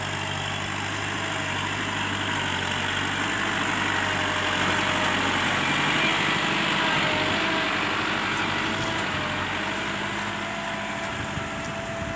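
A farm tractor's engine idles steadily and loudly for the whole stretch, a constant mechanical rumble with no breaks.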